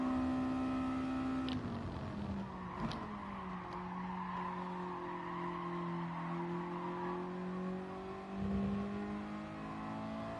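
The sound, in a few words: car tires skidding in the video game GT Sport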